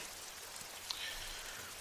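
Steady rain falls outdoors near a fence, a soft, even wash of drops that holds at a constant, fairly faint level with no voices.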